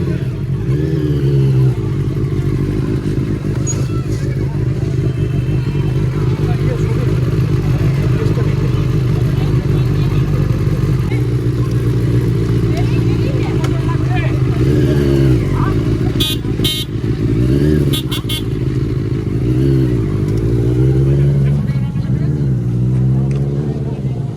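A Benelli 600i motorcycle idles and pulls away for a test drive, its loud, steady engine rumble continuing throughout amid road noise. Voices talk over it.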